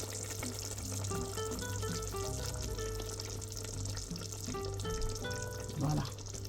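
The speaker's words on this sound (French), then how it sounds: "Maintenant, on va renverser ça dans notre marmite." Crushed spice mixture tipped into a hot pot for Cameroonian goat kondrè, a dense crackling sizzle with soft scraping, heard alone over a low steady hum.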